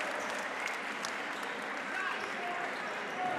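Crowd in a high school boys basketball gym applauding the seniors on senior night, a steady, sustained wash of clapping with an announcer talking over it.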